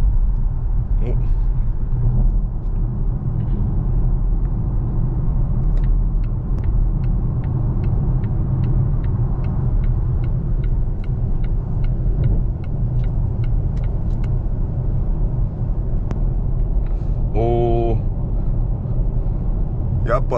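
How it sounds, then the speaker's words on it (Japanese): Volvo XC40 Recharge twin-motor electric car accelerating hard, steady loud road and drivetrain rumble filling the cabin throughout, with faint ticks and a brief whine near the end. "やっぱツインモーターモデル結構加速はいいですね。"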